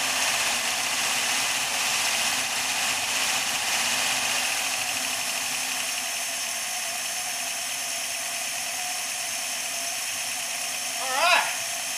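A 1956 Plymouth Belvedere engine, running again after 20 years with no accessories hooked up, gives a steady, smooth idle hum. The sound is close and constant, with a brief squeak near the end.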